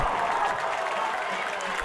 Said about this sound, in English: Crowd goes wild on that one.